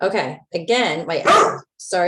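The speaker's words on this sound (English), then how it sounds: "that's my dog." A dog barks several times in short, loud, yelping bursts, close by and tangled up with a man's speech.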